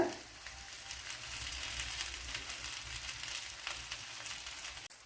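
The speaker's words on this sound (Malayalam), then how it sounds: "ഇപ്പോൾ കൂടുതൽ മാവെടുത്ത് ഇതിൽ ഡിപ്പ് ചെയ്ത് ഓയിലിനകത്ത് മുക്കിയും പൊരിച്ചെടുക്കുക." Batter-dipped brinjal slices deep-frying in hot oil give a steady, close crackling sizzle that holds evenly throughout, with a brief dip near the end.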